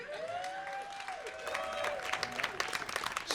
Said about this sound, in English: let me pause right there for applause